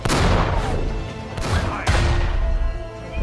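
Tank cannons fire in a war film battle: three heavy booming blasts a second or so apart, each with a sharp crack and a long rumbling decay under continuous battle noise.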